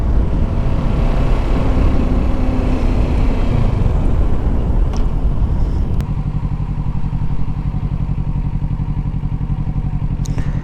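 Motorcycle riding along a town street, a loud continuous engine drone with wind rumble, steadying to an even hum partway through, no talk.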